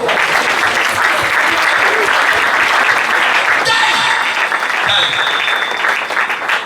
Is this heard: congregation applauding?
yes